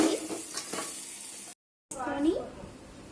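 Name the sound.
stirring mango pulihora in a pan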